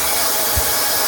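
A hot air plastic welding gun with a tacking nozzle blows a steady, close, broadband rush of air with no gaps, running alone for about a second.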